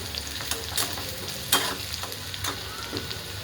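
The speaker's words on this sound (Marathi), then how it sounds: "कांदा थोडासा सोनेरी रंगावर भाजून घेते" Chopped onion frying golden in hot oil with curry leaves, a dense close sizzle with a few sharp stirring scrapes and clicks, no voices.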